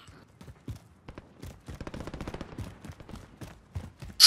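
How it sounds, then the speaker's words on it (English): Gunfire from the video game Call of Duty: Modern Warfare sounds as a series of fairly faint, irregular shots and bursts at a distance, growing a little denser toward the end. "Somebody's shooting at me now."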